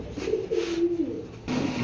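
A pair of Bezi Gola pigeons coo close by in soft, low, rolling calls that run almost continuously, with a short pause before a final coo.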